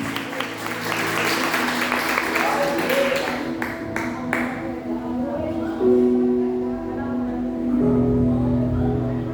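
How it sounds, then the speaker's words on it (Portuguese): A church congregation at a Sunday evening service applauds as someone speaker is welcomed, brisk clapping that fades after a few seconds, then a voice over a sustained organ-like chord. "Vamos receber a serva do Senhor com palmas nesta noite."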